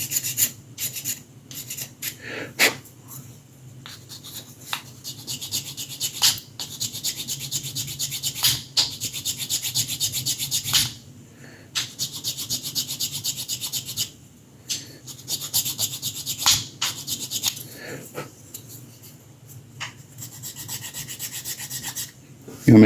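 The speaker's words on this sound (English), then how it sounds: "before you start sanding with your file" A file rasping over a sculpted 1/6 scale Predator figure, steady rhythmic scraping strokes close up, repeated in bursts with short pauses between passes.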